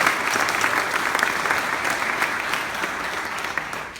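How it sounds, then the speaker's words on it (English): A concert audience at a pancreatic cancer foundation benefit claps loudly and continuously, a thick sustained wash of applause from a sizable crowd with no talk over it, easing slightly toward the end. "give them a big round of applause"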